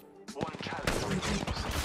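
Rapid automatic gunfire in Apex Legends crackles in close, dense bursts that start abruptly after a brief pause and keep rattling loudly to the end.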